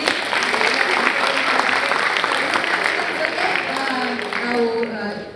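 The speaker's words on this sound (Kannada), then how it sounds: "ಜೋರಾದ ಚಪ್ಪಾಳೆ ಬರಲಿ." Loud, sustained audience applause fills a standup comedy show in a tent venue, a dense crowd of clapping that holds steady for several seconds before slowly thinning toward the end.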